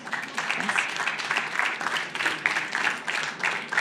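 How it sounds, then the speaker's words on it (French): An audience at a regional showcase of circular-economy industrial startups applauds, a sustained, moderately loud patter of many hands clapping without pause, with no speech over it. "vous pouvez l'applaudir, hein"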